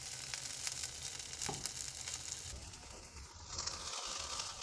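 Mushrooms tossed into dry-roasted masala sizzle and fry in a pan over medium flame for a Konkani-style mushroom phanna upkari, a soft steady crackle with faint stirring scrapes.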